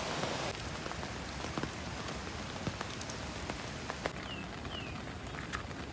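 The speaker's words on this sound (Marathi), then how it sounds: "जाम जोरात पाऊस पडला, अजून खालून जोरात येतो आवडी पाऊस" Heavy monsoon rain pours onto a campsite, a loud continuous hiss of rainfall with scattered sharper drop impacts on nearby surfaces and no talk.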